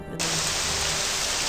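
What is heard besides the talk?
rain in the video game Morrowind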